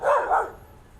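A single loud dog bark sounds outdoors in a botanical setting among yellow ipê trees, close and short with a brief fading tail.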